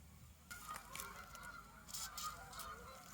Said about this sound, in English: These geese are noisy.